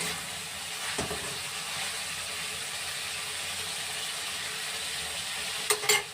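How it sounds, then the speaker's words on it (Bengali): Lemon chilli chicken stirred and fried in a pan, giving a steady close sizzle throughout, with a spoon scraping briefly near the start and a few clinks near the end. "একটু ভাজা ভাজা করে নিতে হবে নেড়ে নেড়ে"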